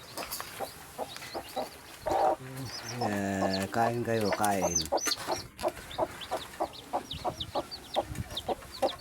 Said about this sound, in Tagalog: ito yung alaga kong manok